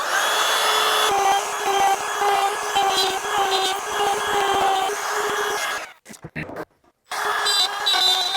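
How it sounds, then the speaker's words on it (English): A power router cuts a recess out of a wood timber for a timber frame, a loud sustained whine with a brief cutoff and a restart near the end. "We're gonna go ahead and router this out."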